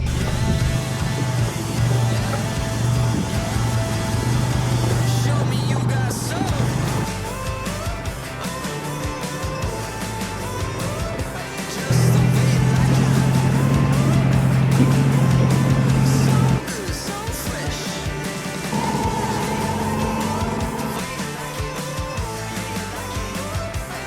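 A 4WD creeping slowly down a rough high-country track, with a steady engine drone that shifts pitch and swells in places, plus bumps and rattles throughout and no talking.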